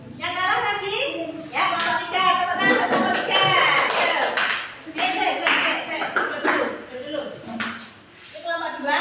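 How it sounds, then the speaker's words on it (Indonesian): Students in a school classroom clap for a group, a lively burst of hand claps rising and falling while children and a teacher talk over it. "Tepuk tangan buat kelompok 3."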